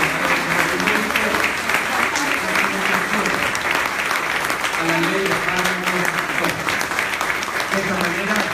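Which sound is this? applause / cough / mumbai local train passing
applause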